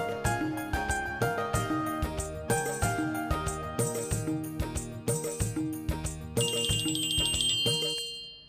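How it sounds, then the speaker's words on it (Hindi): A mobile phone rings in a Hindi TV serial, playing a bright, looping electronic melody of plucked bell-like notes that stays loud and continuous before a shimmering tail fades out. "परी, एक सेकंड, मेरे हस्बैंड नरेंद्र से उनका फोन है।"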